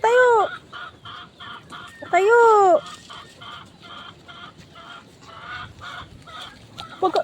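Loud nearby clucking and squawking from a chicken, two sharp calls followed by softer repeated clucks and background farmyard sounds.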